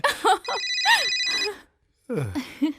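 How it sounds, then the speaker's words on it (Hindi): An electronic phone ring sounds in a steady tone for about a second, surrounded by voices talking before it and after a short pause. "ओह, प्लम्बर का फोन है।"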